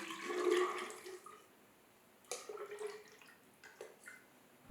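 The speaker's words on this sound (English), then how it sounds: "I fill the vessel up with the same glaze" Liquid glaze pours into a clay vessel, a sloshing gush that fades, followed by a quieter second pour with splashes and drips, close and alone.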